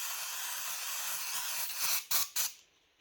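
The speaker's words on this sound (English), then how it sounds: "Let me just shoot the brake cleaner." Brake cleaner sprayed from an aerosol can on a 2017 Honda Forza scooter during drivetrain removal: a steady close hiss followed by two short, sharper bursts, then silence.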